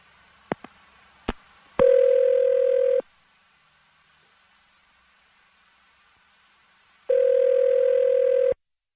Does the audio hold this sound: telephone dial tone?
yes